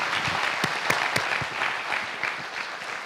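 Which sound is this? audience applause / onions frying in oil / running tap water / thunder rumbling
audience applause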